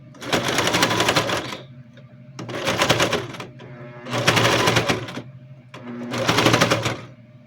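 Sewing machine stitching around a piece of a children's backpack, running in four steady bursts of about a second each with short pauses between, close and clear.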